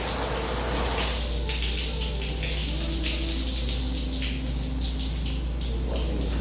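Jacuzzi water jets at a resort spa churn in a steady, loud, continuous rush of bubbling water with no breaks.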